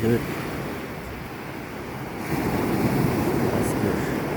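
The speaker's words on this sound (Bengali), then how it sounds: "সাগরের যে ঢেউগুলোর শব্দ শোনা যাচ্ছে, গর্জন শোনা যাচ্ছে।" Sea waves roar steadily on a beach at rising tide, a continuous rumbling wash that swells louder partway through, with wind buffeting the microphone.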